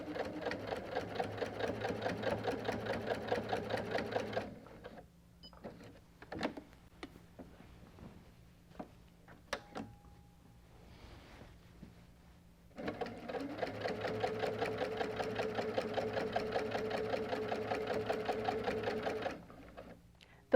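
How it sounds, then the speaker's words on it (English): A sewing machine quilting a line a quarter inch inside the outer border of a quilt, running steadily in two long stretches with a quieter pause of ticks and handling between them. "I'm just going to be sewing 1/4 inch to the inside of the outer border"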